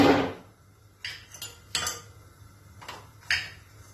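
A metal kadhai is set onto a gas stove, giving a series of sharp clanks and clatters, five or so distinct hits spread across the stretch with quiet between them.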